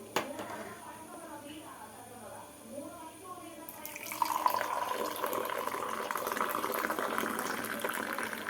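Frothed milk tea is poured into glasses in a home kitchen. Someone talks at first, then a steady, close liquid pour takes over and runs continuously to the end.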